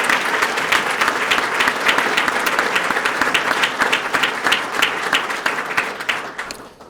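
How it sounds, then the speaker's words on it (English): An audience at a police swearing-in ceremony gives new officers a round of applause, loud dense clapping with distinct sharp claps that carries evenly for several seconds and then fades out. "let's give them another round of applause"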